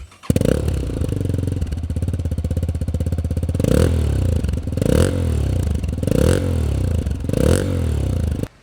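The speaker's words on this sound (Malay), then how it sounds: "Dan inilah bunyi T250X ni" A Morbidelli T250X adventure touring motorcycle with a 249cc engine idles steadily up close, then is revved in four sharp repeated bursts, each rising and falling back to a loud, even idle.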